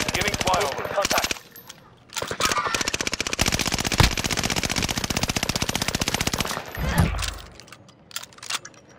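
Rapid bursts of automatic machine-gun fire in a Warzone Resurgence battle-royale match, loud and sustained over several seconds with brief pauses, game voice callouts mixed in.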